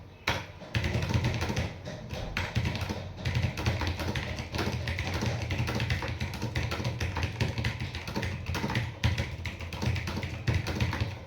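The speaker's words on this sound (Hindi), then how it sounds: "मैं क्या ही टाइप कर रहा हूँ, ऐसे ही की मार रहा हूँ" Rapid, steady tapping of fingers on a computer keyboard, fairly close and continuous, with no talking over it.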